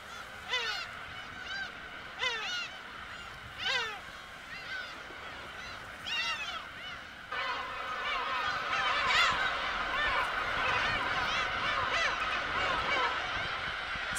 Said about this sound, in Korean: 괭이 갈매기의 집단 둥지는 포화 상태가 된다